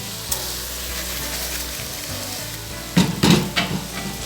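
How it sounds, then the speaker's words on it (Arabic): Rice stirred into grated tomato, onion and spices in a pot for Egyptian red rice with tilapia. It gives a low, even sizzle, then a few clanking stirring knocks near the end. "هضيف عليها الرز واشوحه فيها"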